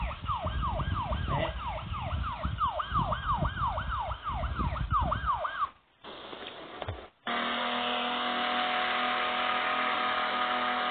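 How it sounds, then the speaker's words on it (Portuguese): A video game siren in a motorcycle traffic game wails, sweeping up and down rapidly over engine rumble, cuts out abruptly, then gives way to a steady hum and hiss. "Reconhece a sirene, Vi?"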